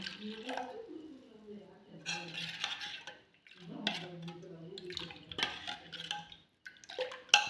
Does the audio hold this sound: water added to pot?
yes